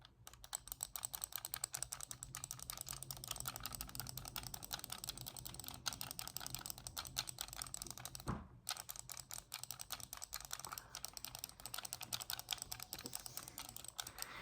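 Nintendo Switch controller buttons are pressed in a fast, continuous stream of small, crisp clicks, quiet and close, with a brief pause partway through.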